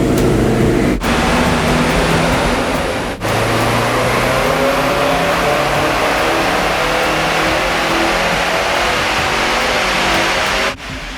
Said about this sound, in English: The car was set up and strapped on. 3 power runs in if I was lucky